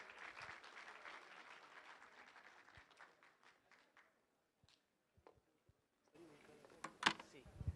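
Conference audience applauding a judge as she is introduced, a faint, thinning patter of clapping that fades into near silence before a sharper burst of noise near the end.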